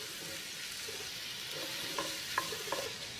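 A diced onion, celery and carrot mirepoix sizzles softly in a pan for a braise, with a steady frying hiss and a few light stirring clinks.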